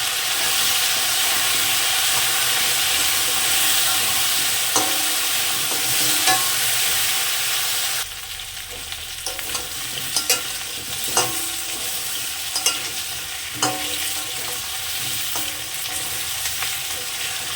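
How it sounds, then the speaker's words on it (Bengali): Tangra fish curry with yam sautéed in a pan, a steady hissing sizzle that drops quieter partway through, then spatula scrapes and clacks at irregular intervals over the softer frying. "এবার আমি তরকারিটাকে সুন্দর করে কষে নেব"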